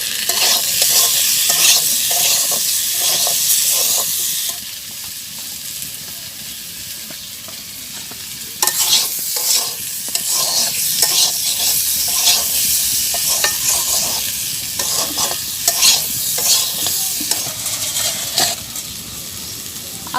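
Potatoes with salt and turmeric sizzle in a pan while a spatula scrapes and stirs in quick repeated strokes. The sizzle drops for a few seconds and then returns loud, close up, with no voices.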